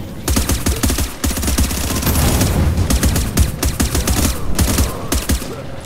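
Automatic gunfire in The Division, a loud, close, sustained stream of rapid rattling bursts with only brief gaps, no talking.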